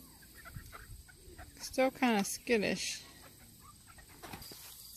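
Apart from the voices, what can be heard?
chickens and roosters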